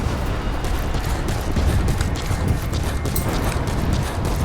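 A horse gallops in Metal Gear Solid V, its hoofbeats a quick, rough drumming that stays fairly steady and close amid low rumbling ambience, with no voices over it.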